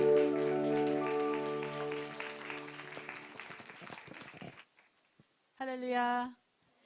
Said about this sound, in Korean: 나오실 때 큰 박수로 우리 같이 환영하시겠습니다.